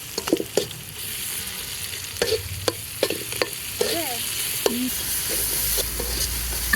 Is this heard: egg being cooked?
yes